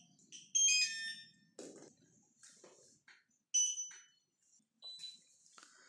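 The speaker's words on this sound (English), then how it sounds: "the first beep that you heard was an indication that the UHF transmitter has detected the PPM channels" Several short, high electronic beeps and chirps from a UHF head-tracker transmitter detecting PPM channels sound in a scattered sequence, separated by brief quiet gaps with faint clicks.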